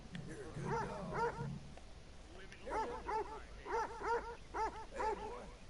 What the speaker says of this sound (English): Hey, boy.